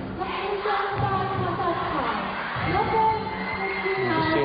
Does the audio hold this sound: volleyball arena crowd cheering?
yes